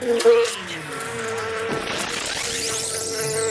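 Honeybees buzzing around busy colonies in an apiary, a steady, fairly loud drone of many insects in flight, with a few individual bees passing close by and someone speaking over the start.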